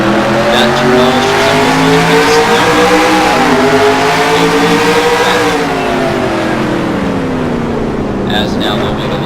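Race cars at speed on the Arizona road course during a testing session, engines droning loudly and continuously with rising and falling pitch as they brake and accelerate through turns, a commentator talking over them.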